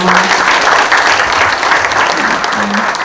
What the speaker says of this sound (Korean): 모든 분들께 큰 박수 부탁드리겠습니다.